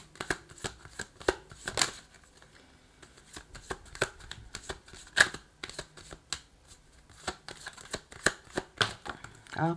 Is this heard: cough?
no